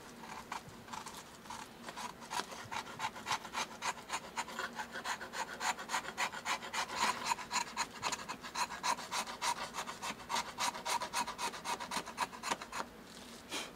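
A homemade knife scraping along a crack in a violin's wooden top, a steady run of rapid, close rasping strokes that goes on almost without pause at a soft level.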